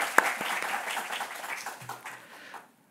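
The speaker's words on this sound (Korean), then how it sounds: "축복의 박수 하겠습니다" A church congregation applauds during a worship service for the opening of a ministers' training course, a brief burst of many hands clapping that thins out and fades to silence near the end.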